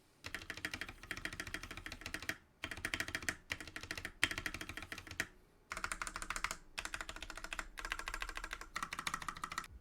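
Fast typing on a CIY X77 TKL mechanical keyboard, dense close-up clacks in several bursts separated by brief pauses, heard alone.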